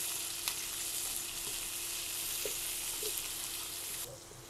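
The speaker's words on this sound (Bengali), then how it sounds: "পেঁয়াজটা 1 মিনিট একটু ভেজে নেবেন" Chopped onions sizzle steadily in a hot pan with oil, a continuous close frying hiss with faint crackles and a few soft stirring taps, no voices, dropping off slightly near the end.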